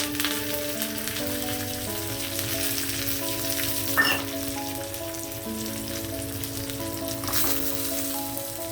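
Garlic, cumin, mustard seeds, dried red chillies and curry leaves tempering in hot oil for dal, a steady crackling sizzle with soft popping, close and continuous, no talk.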